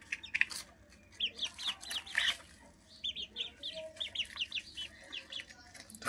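Caged chickens cluck in quick, scattered bursts while pecking at vegetable leaves, a soft, fairly near chorus of short calls with brief pauses and low background hum.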